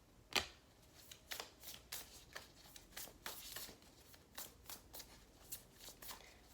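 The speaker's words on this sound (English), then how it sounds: "I'm just shuffling" Oracle cards are shuffled by hand in a quiet room, giving a steady run of soft, crisp riffles and slaps at a gentle rhythm, with no talking.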